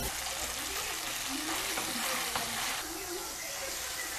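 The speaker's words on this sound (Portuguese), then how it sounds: "É que eu tô fritando a carne," Meat frying in a home kitchen pan gives a steady sizzling hiss, continuous and fairly close, with a faint background murmur but no clear talk.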